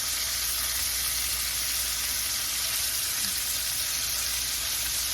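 Meat frying in a pan, a steady loud sizzle with bright crackling hiss that holds constant from start to finish with no talking.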